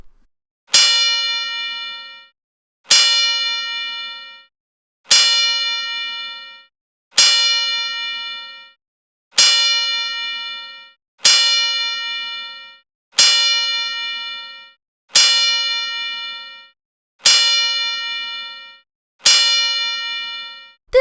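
Ten single bell strikes ring at an even, slow pace, about two seconds apart, each a bright clean ding decaying into silence before the next, loud and close, with no talk.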